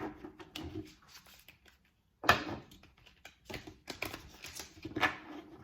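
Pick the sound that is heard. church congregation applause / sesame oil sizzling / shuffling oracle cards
shuffling oracle cards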